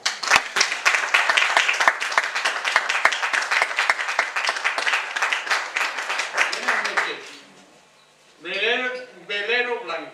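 Audience applause at a Catholic social club event in Burjassot fills the space for about seven seconds of dense clapping, then fades to near silence before a voice begins speaking.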